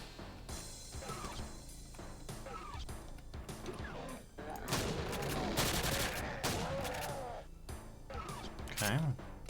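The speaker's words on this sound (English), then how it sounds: "Chain gunner's hitting hard as always." Rapid bursts of chain-gun fire from an enemy gunner in the video game Project Ridium, crackling volleys swelling loudest midway, mixed with game effects and heard under a voice.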